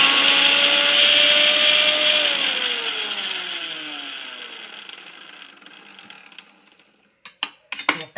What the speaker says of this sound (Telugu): ఇట్లా మిక్సీ బౌల్లో వేసుకొని బాగా మెత్తగా పచ్చలాగా అయ్యేటట్టు బాగా మిక్సీకి వేయాలి.